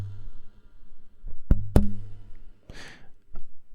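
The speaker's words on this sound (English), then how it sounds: "That's just me smacking the front of my guitar right on the strings" A hand smacks the front of a guitar right on the strings, used as a kick drum in a song: a few sharp, dull thumps with low resonant ring, spaced irregularly and close up.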